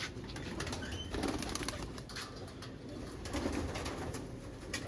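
Domestic pigeons in a loft give soft, steady cooing close by, with low murmuring calls that swell gently at intervals and a faint wing flutter. No one speaks.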